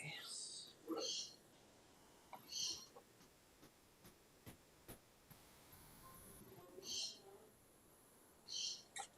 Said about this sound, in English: My bird is going a bit.